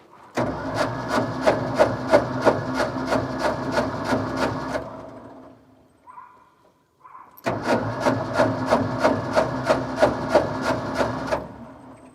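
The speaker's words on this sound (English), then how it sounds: "The motor turns over" An old Ford F600 U-Haul truck engine, unused for about twenty years, cranks over in two long bursts of rapid rhythmic chugging separated by a brief quiet pause, loud and close.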